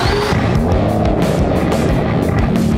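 A 715 hp Aston Martin DBS Superleggera engine drones loudly and close, a dense, steady roar with rumbling, shifting tones throughout and no voices.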